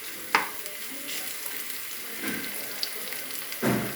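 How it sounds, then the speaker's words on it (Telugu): Bottle gourd chutney ingredients cook in a pan with a steady soft sizzle, while a few brief scraping stirs break through, near and fairly quiet, with no talking. "మొత్తం కలబెట్టుకుందాం. ఇంకొక 2 మినిట్స్ మగ్గితే చాలండి."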